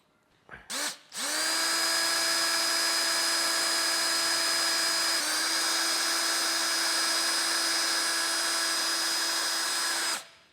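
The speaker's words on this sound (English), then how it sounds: "So we'll get these drilled, get ready to mount the plate" A power drill bores holes into the gel coat of a trailer boat with one long, loud, steady whine that starts after a short rev and stops abruptly near the end.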